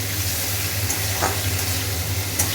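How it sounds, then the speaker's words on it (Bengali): Close, steady sizzling and hissing of shrimp frying in hot oil, with a low hum beneath and an occasional light clink, no voices. "চিংড়ি মাছগুলো ভেজে নিচ্ছি ভালো করে লাল লাল করে নিয়ে"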